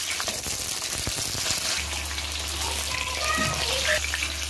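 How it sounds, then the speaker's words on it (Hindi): Green chillies frying lightly in oil in a kadai, a steady sizzle with some stirring clatter and a low hum joining partway through, no talk. "अब हम ये मिर्चियों को थोड़ा सा फ्राई कर लेंगे, ज्यादा फ्राई नहीं करेंगे,"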